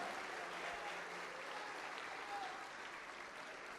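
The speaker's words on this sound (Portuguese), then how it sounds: "Aplauda mais, aplauda mais, aplauda mais." Church congregation applauding during a worship service, a faint, even wash of many hands clapping continuously at a distance, with a voice murmuring underneath.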